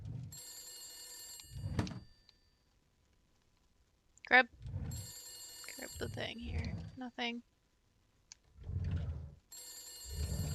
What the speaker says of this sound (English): If I don't pick up the phone, it'll never stop ringing.